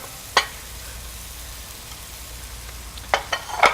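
Scallops cooking in a pan, a low steady sizzle under a few sharp clinks and scrapes of utensils, one early and a cluster near the end, no speech.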